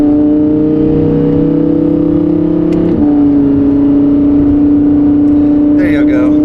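A supercar in performance mode gives off a loud, sustained engine note that holds steady, then shifts pitch abruptly about halfway through and carries on at a new level. A brief voice comes in near the end.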